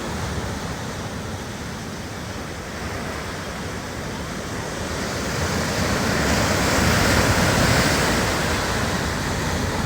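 Ocean waves roll in and crash on a beach in a continuous roar of surf that swells louder toward the end, with no voices.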